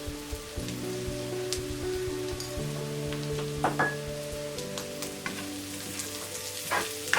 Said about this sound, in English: Anuhin lang natin, lutuin lang natin ang onion.